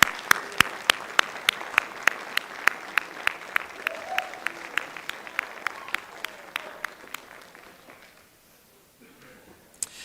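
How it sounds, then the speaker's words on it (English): Audience at the 2023 Dickinson State University fall commencement applauds the graduates' families, a dense steady clapping with a few sharp near claps punctuating it, fading out toward the end. "give them a round of applause"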